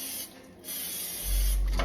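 Cooking spray hisses onto a small grill plate in a home kitchen, a close steady spray that grows louder toward the end.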